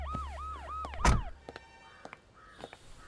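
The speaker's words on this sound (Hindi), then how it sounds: "यहाँ तो सायरन भी बजने लगी" A siren wails in rapid rising-and-falling sweeps, then cuts off after about a second with a loud thump, followed by scattered clicks and caw-like calls.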